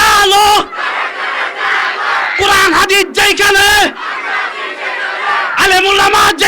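At a Bengali Islamic sermon gathering, a large crowd shouts takbir, Allahu Akbar, in unison in response to a leader's call. The loud, near chants come in repeated bursts separated by brief pauses filled with amplified speech.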